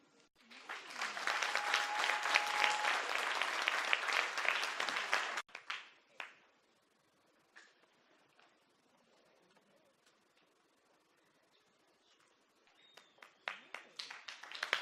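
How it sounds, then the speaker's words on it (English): An audience at a graduation ceremony breaks into a dense burst of applause lasting several seconds, then fades to scattered claps and quiet before clapping swells again at the end. "A round of applause for Martin."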